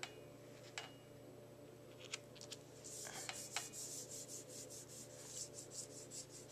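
Soft rubbing and light rasping of a hand pressing over the back of a card during alcohol-ink marbling, a quiet textured friction that swells in repeated strokes over a steady low hum, with a few faint ticks early on.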